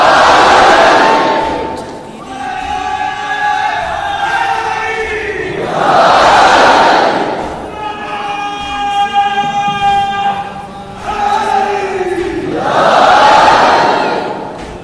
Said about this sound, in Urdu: پہلے صرف ایک ہی نعرہ ہوتا تھا، نعرہ حیدری